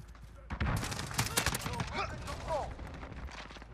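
FAL rifle fire in the Modern Warfare video game: a burst of close, sharp shots from about half a second in, then scattered game effects and fainter pops, with speech-like sound mixed throughout.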